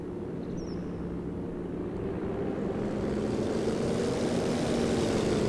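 A Hawker Typhoon fighter-bomber in the Company of Heroes 2 game drones overhead with a steady propeller roar that swells gradually, set against a continuous low rumble with no voices.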